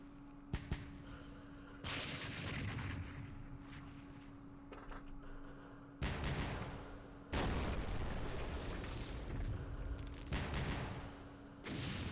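Artillery fire in the wargame Campaign Series Vietnam, set at Dien Bien Phu: several loud, broad booming salvos and rumbling bursts come in clusters with a steady low hum underneath and no talk.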